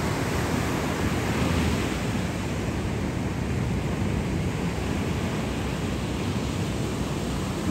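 Continuous roar of ocean surf, a dense steady wash of breaking waves with wind noise and no voices.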